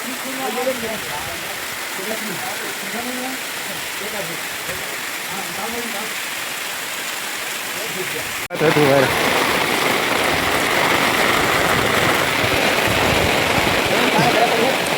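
Steady rain pours down in a village, a dense broadband hiss that grows noticeably louder and heavier partway through, with people talking beneath it during the first half.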